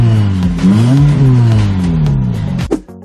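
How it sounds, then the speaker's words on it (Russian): Car engine with a straight-through exhaust cutout valve open, revving loud and close in a sustained rising and falling roar that cuts off sharply near the end. "активировать прямоточный выхлоп, который в любой момент можно вернуть в штатный режим отвода отработанных газов через глушитель"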